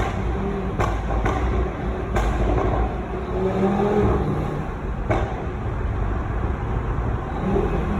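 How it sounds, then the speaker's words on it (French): A 2019 Audi RS3 with its five-cylinder engine and stage 1 pop-and-bang tune, a steady loud low engine drone with a few sharp cracks and pops scattered across it, heard alone without talk. "La sonorité justement du 5 cylindres Audi pour moi vraiment fait partie des meilleurs petits moteurs"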